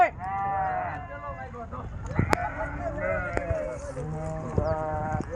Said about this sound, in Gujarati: જો આ રીતના બકરા આવે છે